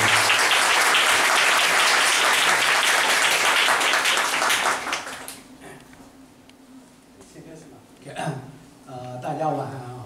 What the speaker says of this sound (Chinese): 所以我们这次大家热烈掌声先欢迎我们的金老师